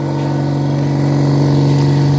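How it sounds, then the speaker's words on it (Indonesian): Air compressor supplying a fully automatic cup sealer machine runs steadily at close range, a loud continuous motor hum with a strong low drone and no pauses. "Jadi kompresor sudah menyala ya."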